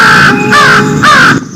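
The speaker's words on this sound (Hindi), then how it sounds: "काला कौवा बोल रहा है" A black crow gives three loud, close, harsh caws in an even rhythm, each call lasting about a quarter second, with no other sound around them.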